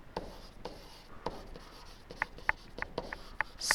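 Pen or pencil writing by hand on paper while working a math problem, with close, soft scratchy strokes and a few sharper taps from short marks, arriving in irregular bursts with no one talking.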